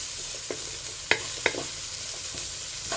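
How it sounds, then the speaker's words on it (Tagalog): Chicken tinola is stirred in a pot, with a soft simmering sizzle beneath a few distinct clinks and scrapes of the utensil against the pot, close and unaccompanied by speech. "haluin na natin sila"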